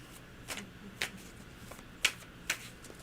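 Tarot cards being shuffled by hand, a series of soft crisp riffling bursts spaced about half a second apart, close and quiet with no talking.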